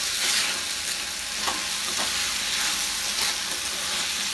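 Chilli paneer with spring onion greens stir-fries in a hot pan over high flame, a loud, steady sizzle with occasional scraping stirs and no voices.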